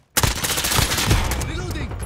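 Rapid Uzi fire in a shooter game, a loud dense burst starting abruptly and continuing throughout, with game voices mixed in.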